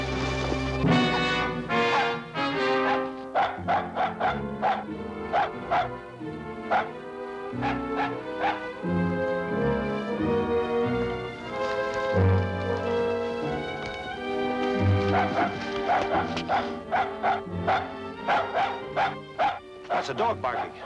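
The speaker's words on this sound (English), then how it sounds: "That's a dog barking." Dog barking repeatedly with yips and whimpers at close to middle distance, mixed among people talking in an older adventure drama.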